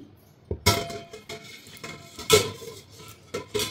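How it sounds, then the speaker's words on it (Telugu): Small bowl being set upside down inside a metal vessel of water: a few sharp metallic clinks and clanks, close and fairly quiet, with short pauses between them. "ఒక పాత్రలో వాటర్ పోసుకొని ఈ పిండి గిన్నెని దీంట్లో పెట్టడానికి వీలుగా ఒక చిన్న బౌల్ని బోర్లించుకోండి"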